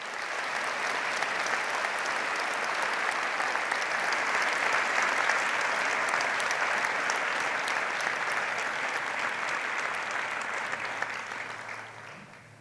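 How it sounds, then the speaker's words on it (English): A hall full of people at a Stellenbosch University science graduation ceremony applauds the departing musicians, a long, even wash of dense clapping that holds steady and then tapers off at the end. "as they leave, let us accompany them with a round of applause again"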